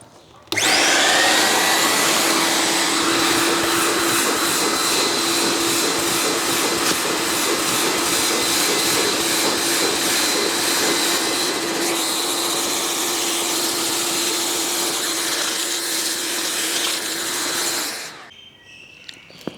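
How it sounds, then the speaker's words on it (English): A loud vacuum cleaner runs continuously at close range over Nissan 300ZX floor mats with a steady whine and rushing suction, switching off near the end. "the first thing I've got to do is simply just to vacuum the floor mats"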